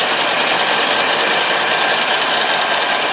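Twin closed-cooled 5.7 GI inboard engines rated at 300 horsepower on a 2005 Cobalt 282 bowrider, running as a steady, loud, even mechanical whir with no break and no talking.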